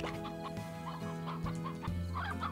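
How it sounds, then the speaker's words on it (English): Grown-up chickens in Slime Rancher cluck and squawk in short bursts over a looping game-music backdrop, loud and close, with no talk. "Oh, all my little chickens grew up!"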